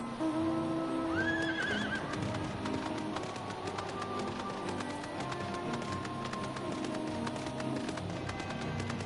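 A horse neighs in Final Fantasy XIV, a clear, rising whinny near the start over a steady bed of game music and ambience that carries on to the end.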